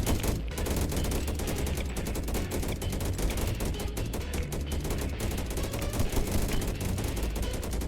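Turrets in a video game blaze away in dense, continuous rapid-fire bursts that pound steadily for the whole stretch, loud and close with no pauses.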